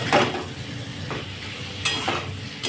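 A spiced masala base for a Bengali rohu fish curry with potato and cauliflower is stir-fried in a pan, with a steady sizzle and a few sharp spatula scrapes against the metal, close by and without talk.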